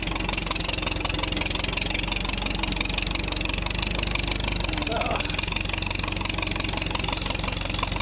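Late Model R engine running after hand cranking, a steady rhythmic chugging idle with a knocking beat, close and continuous throughout.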